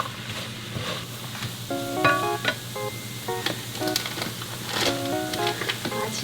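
Anchovies and walnuts stir-fried in a dry pan, a steady low sizzle with scraping and clinking from a spatula or spoon stirring at irregular moments, close and moderately loud, with faint background music tones.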